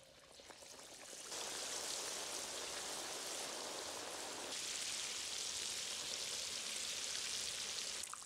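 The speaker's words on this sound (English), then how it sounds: "Fry for 5 minutes on medium high heat." Taro puffs deep-frying in oil on medium high heat give a loud, steady, close sizzle and crackle that swells once they hit the oil and holds continuously.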